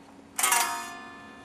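A single chord from an Ibanez Prestige electric guitar tuned down five semitones, recorded in a metal rhythm-guitar session. It is struck once, loud and bright, then rings out and slowly fades, with no one talking.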